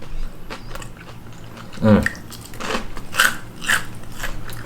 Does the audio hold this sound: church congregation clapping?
no